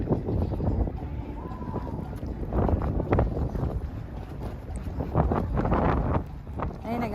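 Cold, blustery wind at Cristo Roto in Mexico, beside waiting transport, a steady low rumble of buffeting against the microphone with stronger gusts in the second half.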